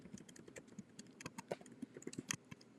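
Light clicking of keys on a computer keyboard, quiet and fairly close, in short irregular bursts of taps with no talking.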